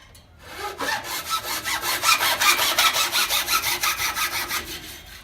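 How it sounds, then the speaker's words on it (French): A hacksaw cuts through a paddle shaft with quick, regular back-and-forth strokes, rasping and close, speeding up slightly and steady throughout. "j'ai utilisé une scie à métaux pour couper la rame"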